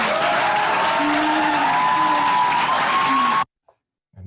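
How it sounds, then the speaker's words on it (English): An audience claps and cheers after a talk, a dense, loud wash of applause with a few whoops rising above it. It cuts off abruptly near the end. "And the crowd goes wild"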